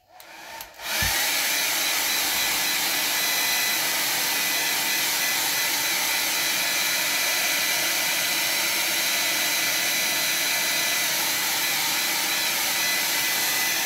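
A hair dryer blows on a watercolor landscape painting to dry the paint, starting with a click and then running as a loud, steady, unbroken rush of air with no talking.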